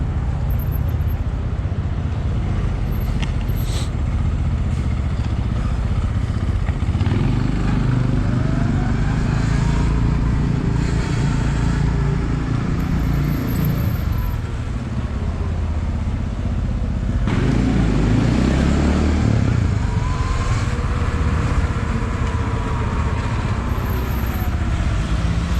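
A motorcycle passes along a busy New York City street, engine swelling loud and close then fading, over steady traffic noise.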